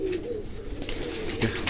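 Golden red-eyed Rampuri pigeons coo softly in a short, continuous stretch at a bird sale, with faint chirps over a steady background hum.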